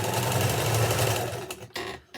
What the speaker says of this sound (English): I do this usually on about a 2 on the sewing machine stitch length.